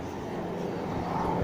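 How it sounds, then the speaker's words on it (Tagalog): A helicopter flying overhead, heard outdoors as a steady broadband engine roar with a low rumble, constant and moderately loud for the whole stretch. "There, helicopter."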